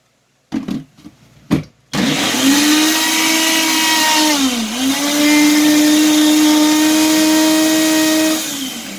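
A few short clunks, then a blender whirs loudly and steadily, its pitch dipping briefly midway before recovering and cutting off near the end.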